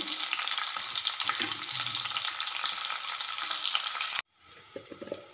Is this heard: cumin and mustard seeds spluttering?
yes